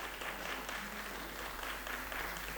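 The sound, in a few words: audience applause in a theatre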